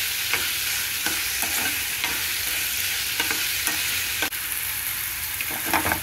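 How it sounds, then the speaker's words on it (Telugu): Vegetable pieces for dosakaya (yellow cucumber) tomato pachadi sizzle and fry steadily in a pan, a continuous crackling hiss with occasional sharper pops and stirring scrapes, no talking. "ముక్కలు బాగా వేగాలండి."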